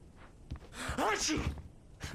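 A single sneeze from a character in the video game Alan Wake Remastered, a short sharp burst after a brief inhale, fairly quiet and alone.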